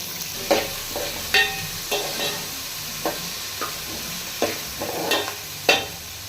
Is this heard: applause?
no